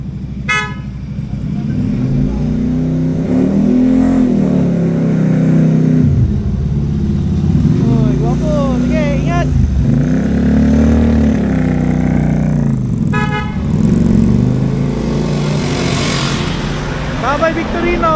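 A Victorino 250i scooter starts up, its engine revving in repeated rising surges before it pulls away, with short horn toots and people talking nearby.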